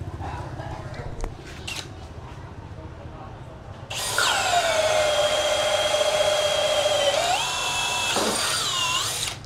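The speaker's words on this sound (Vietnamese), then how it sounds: "Mình sẽ khoan rút lõi gỗ này." A cordless drill fitted with an 8Ah battery core-drills through a block of wood, a loud steady motor whine that starts suddenly partway through, holds for several seconds, then rises in pitch as the load eases near the end.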